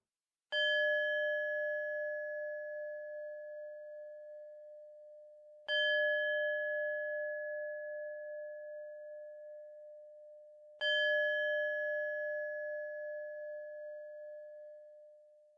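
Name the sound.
singing bowl chimes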